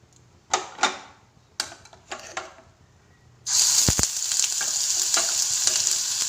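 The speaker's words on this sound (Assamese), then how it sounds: "মই এতিয়া নহৰু, পিঁয়াজ, আদা আৰু জলকীয়াৰ পেষ্টটো দি দিম তেলতে।" Garlic, onion, ginger and chili paste drops into hot oil for a chili curry, bursting into a loud, steady sizzle after a few soft kitchen clicks and knocks.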